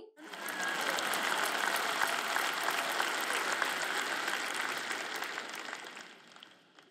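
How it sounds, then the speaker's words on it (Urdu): Sustained applause from a large conference audience fills the hall, dense and steady for several seconds before tapering off near the end. "آپ تالیاں بجاتے ہیں، آپ بلند آواز کرتے ہیں"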